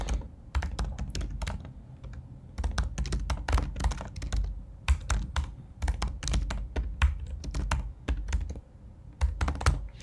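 Computer keyboard keys tapped in quick irregular bursts while keywords are entered into a rank-tracking web tool, close and clear with short pauses between runs of keystrokes and no talking.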